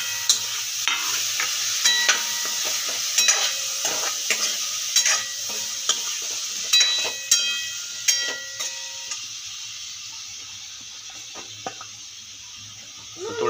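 Paneer sautéing in turmeric-spiced masala in a pan, a steady hiss of frying with repeated scraping and tapping of a spatula stirring at irregular intervals, the sizzle easing toward the end.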